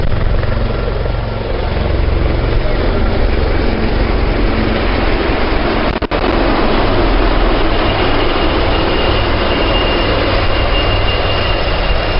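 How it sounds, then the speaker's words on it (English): Four Dhruv helicopters pass over a military parade, a loud steady rumbling rotor and engine roar that fills the whole stretch without letup. "the 4 Dhruv helicopters"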